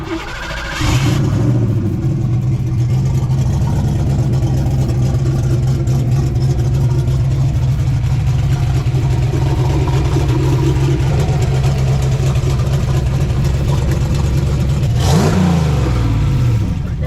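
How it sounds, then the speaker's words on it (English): A turbocharged Ford Fox Body Mustang notchback with a 302 engine idles with a steady low rumble, then revs sharply near the end before settling back down. "fire it up, maybe rev a little bit and go down the road"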